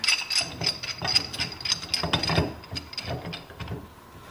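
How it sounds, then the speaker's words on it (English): Pipe wrench turning a PVC pipe fitting on a homemade hand pump, a series of close clicking, ratcheting and creaking strokes in an irregular rhythm, fading toward the end. "Then you just put your pipe wrench on here."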